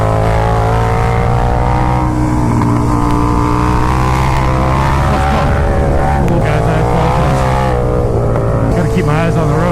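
A KTM Super Duke accelerating hard out of a corner with rear-wheel spin, its engine a loud, sustained roar whose pitch rises and wavers, heavy wind noise, no clear speech.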